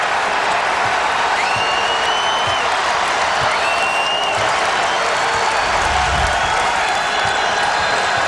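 A basketball arena crowd cheers and applauds in a dense, continuous roar that holds steady and loud for several seconds, with scattered whoops rising above it.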